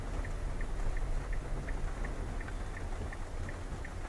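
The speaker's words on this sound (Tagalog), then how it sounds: "Ay maulan." Rain drums steadily on a taxi during a storm drive in Metro Manila. A dense, even hiss fills the cabin with a low rumble beneath it, and a faint, regular ticking repeats throughout.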